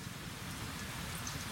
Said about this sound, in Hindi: भाई यहाँ तो पड़ रही बारिश